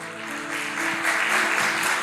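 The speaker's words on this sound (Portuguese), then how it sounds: "Uma salva de palmas para o Arthur." A church congregation applauds a young boy named Arthur, with clapping that swells a little and then stays steady for two seconds over a faint sustained musical tone.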